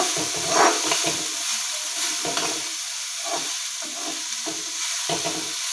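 Flour fries and sizzles in ghee in a pan, a steady close hiss broken by repeated scraping stirs of a spoon, with no talking.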